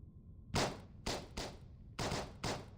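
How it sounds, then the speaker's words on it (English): Five sharp video-game gunshots from Reverse: 1999 ring out in an uneven rhythm. Each is a loud, crackling burst with a short tail, over a quiet background. "The gunfire outside the room grows more intense."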